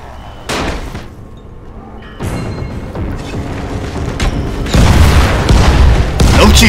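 Firecrackers crafted in Dying Light go off in a series of loud, booming blasts spread across several seconds, each burst rising sharply with thuds and rumble between, growing heavier toward the end, with no talk over them.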